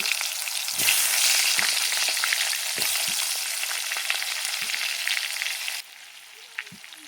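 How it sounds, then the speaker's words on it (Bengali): Potatoes frying in hot oil in a pan, with a bright, steady sizzle that starts abruptly, runs loud for several seconds, then drops quieter, with occasional soft stirring knocks. "আমি আলুগুলো ভেজে নেব এই তেলে"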